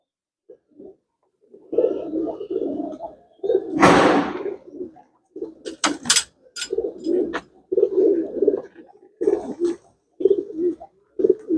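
Pigeons kept as personal birds coo in repeated soft, low phrases close by, with a brief burst of wing flapping and a few sharp knocks in between; no one speaks.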